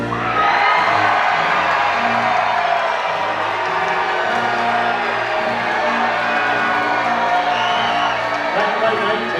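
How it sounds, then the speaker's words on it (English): A packed arena crowd at a Medieval Times dinner tournament cheers, whoops and shouts continuously, a loud sustained roar filling the hall with voices layered throughout. "My lord, hear your people cheer."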